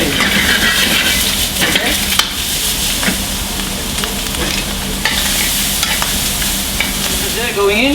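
Nasi goreng rice stir-fried in a hot pan: continuous loud sizzling with repeated scraping and tossing strokes, a busy kitchen hum beneath and a brief spoken word.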